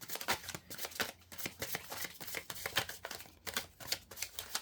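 A tarot deck is riffled and shuffled by hand, producing rapid rhythmic bursts of card flutter and snapping, close and moderately loud with no talk.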